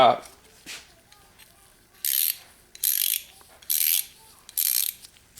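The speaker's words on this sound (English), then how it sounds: "They are the best ratcheting wrenches available for the money." A ratcheting wrench clicks in four quick bursts as it turns a heavily loaded bolt, each sharp ratchet run close and loud with short pauses between.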